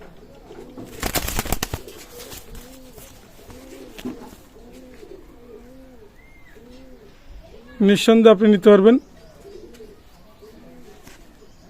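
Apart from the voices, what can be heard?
pet pigeons cooing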